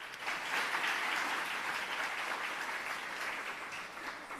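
Audience applauds city officials at the Orlando State of the Downtown address, a steady, sustained wash of clapping from a large crowd in a hall, fairly even in loudness from start to finish with no voices over it.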